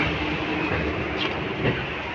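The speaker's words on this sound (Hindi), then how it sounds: "फ़िलहाल हम बैठे हुए हैं लोकल ट्रेन में" An Indian local train runs between Barrackpore and Dum Dum, heard from inside the carriage as a loud, continuous rumble and rattle with a couple of clunks.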